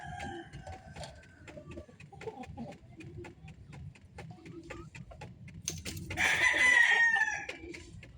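Red chickens at a poultry farm clucking and rustling close by with a steady low background murmur, then a loud rooster crow near the end.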